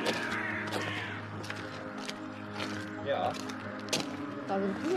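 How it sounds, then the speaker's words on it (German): Crows cawing amid the bustle of a Christmas market in Kaltenkirchen, several harsh calls scattered across the clip at moderate distance, mixed with a steady crowd murmur and people talking nearby. "Da sind Vögel drin."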